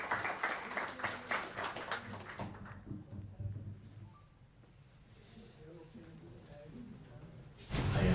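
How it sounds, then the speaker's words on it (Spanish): An audience applauds Wenceslao Cruz at a documentary presentation at the Brigade 2506 Museum. The clapping starts loud, thins out into a quieter patch, then builds again at the end, with people talking over it. "a que le demos un aplauso a Wenceslao Cruz"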